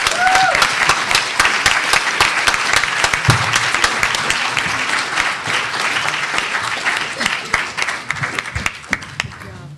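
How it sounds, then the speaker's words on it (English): An audience at a political conference on green-collar jobs and new energy for cities breaks into sustained, dense applause that fills the room steadily throughout, with a few cheers and scattered voices mixed in. "I think we should give the sister another round of applause."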